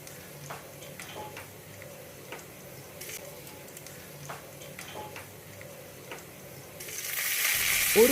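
Small scattered pops and ticks sound faintly for several seconds, then a loud bright sizzle of seeds in hot oil swells up near the end.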